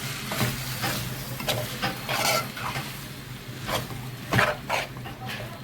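Liver stirred into sliced onions in a frying pan, a soft steady sizzle under repeated scraping and clattering as a utensil turns the pieces, with a low hum in the background.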